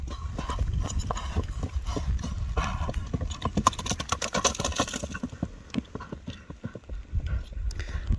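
Horse hooves clip-clop at a livestock gathering among big horses, the steady hoofbeats close and busy under continuous crowd and ambient noise, with faint voices in the background.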